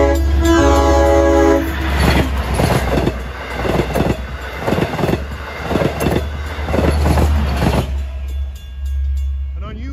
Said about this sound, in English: Approaching is train 71, Patchogue Babylon at